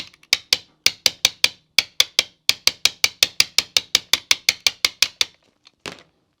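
A Kwikset lock is bumped with a bump key fitted with softening rings, producing about two dozen rapid, crisp metallic taps in a steady rhythm, close and loud, ending with a final click.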